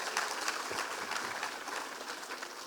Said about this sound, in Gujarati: ફરીથી એકવાર તાળીઓના ગડગડાટથી વધાવીશ